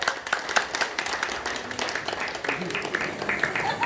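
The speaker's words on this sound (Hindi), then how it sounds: "जोरदार ताली बजाओ यार।" A crowd at a small gathering honouring a guest claps steadily, a fairly even patter of many hands that runs throughout with a voice talking over it.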